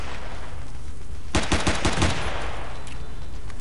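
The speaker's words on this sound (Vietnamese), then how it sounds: "cái súng máy nó bắn hay bị cháy nòng" Machine gun fire in Battlefield 2: a short, loud rapid burst of about eight shots cutting through steady background noise, then fading.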